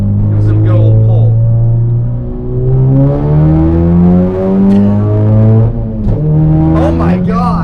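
A 2018 Ford Focus RS fitted with a bigger EcoBoost throttle body accelerates hard, its loud, close engine note climbing in pitch through several gear changes across the pull.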